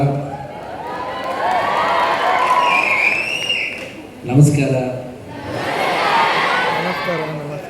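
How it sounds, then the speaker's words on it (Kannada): Children in a crowd clap and cheer loudly at an event in Dandeli, a broad continuous wash of applause and shouting that dips briefly midway before swelling again, with voices mixed in. "ಜೋರಾದ ಚಪ್ಪಾಳೆ ಮಕ್ಕಳ"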